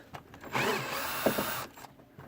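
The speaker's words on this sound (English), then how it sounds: "grab your drill," A cordless power drill backs out the single large screw holding the door panel of a third-generation Mitsubishi Montero, with a steady whirring burst of about a second between light clicks and handling noise.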